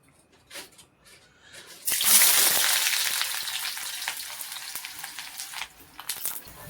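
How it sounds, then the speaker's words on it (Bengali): Onions sizzle loudly as they hit hot oil in a wok, a sharp burst of frying that continues steadily after a quieter start, with brief stirring clatter and no talk. "তো পেঁয়াজ দিয়ে দিয়েছি, এখন এটা ভেজে নেবো।"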